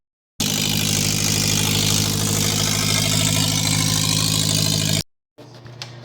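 Car engine idling roughly with a misfire, a loud, close, uneven chugging drone that starts abruptly, runs for about five seconds, then cuts off, followed by faint background noise.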